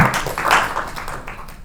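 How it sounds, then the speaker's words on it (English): Applause from a meetup audience at a PostgreSQL panel discussion, a steady brief clapping wash that stays dense and fairly loud, then thins toward the end. "So we should clap for him."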